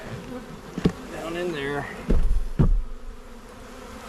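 A honey bee swarm in a swarm trap buzzes steadily near the microphone, with a dense insect drone under a man's brief speech and two sharp knocks as the trap is handled.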